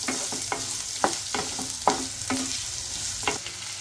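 Chopped onions sautéing with fennel and curry leaves for Chettinad prawn thokku: a steady close sizzle with irregular scraping stirs of a spoon against the pan every half second or so, no voices.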